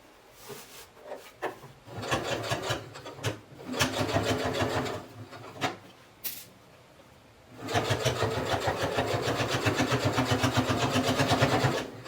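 A sewing machine stitches a zipper into a dress, running in short bursts with pauses and then settling into a long steady run of rapid, even needle chatter, close and fairly loud.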